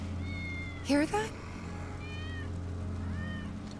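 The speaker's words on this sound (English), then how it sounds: "That's Wedge's cat." A cat meows twice in quick succession in the Final Fantasy VII Remake game, close and clear over a steady low hum and soft game ambience.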